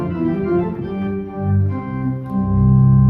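A full, sustained grand pipe organ principal chorus playing chords, rich and steady, with a deep foundation and bright upper harmonics, no voices.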